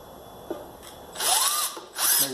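Power drill boring a pilot hole straight through white wood, heard as two short whirring bursts with a rising pitch and a pause between them, close and fairly loud, with no one talking.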